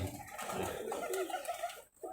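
Several pigeons coo in low, soft rolling calls that overlap through the stretch, with a brief gap near the end before cooing resumes.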